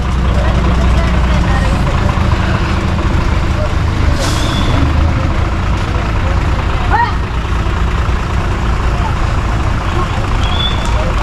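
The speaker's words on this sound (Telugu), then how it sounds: "అదిగో ఫ్రెండ్స్, బస్ వస్తుంది." A bus rumbles in on a road near Athirappilly Waterfall in Kerala, its loud engine droning steadily with sharp hissing bursts of air brakes partway through and again near the end.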